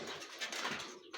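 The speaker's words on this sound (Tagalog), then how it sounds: "Yun na nga mga kalapatid." Racing pigeons cooing just after release at a pooling training event in Sto. Tomas, La Union, a brief burst of soft, close bird calls mixed with fluttering over a busy outdoor background.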